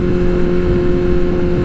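A liter-class motorcycle rides through Miami, its engine a steady, loud drone close by with a constant low hum and rushing wind throughout.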